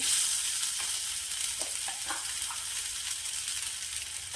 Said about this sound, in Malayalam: നമുക്ക് അതിലേക്ക് മീൻ വറുക്കാനിടാം